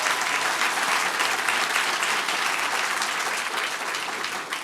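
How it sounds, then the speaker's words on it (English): A crowd at a Clackamas County commission meeting applauds loudly and steadily, dense clapping holding for the whole stretch and easing only slightly at the end. "I want to applaud everybody that came here today."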